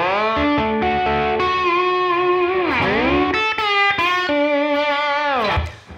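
Slide guitar lick in open E tuning, played in A as eight-bar blues, with sustained gliding notes swooping between pitches through a distorted, chorus-tinged tone, loud and alone.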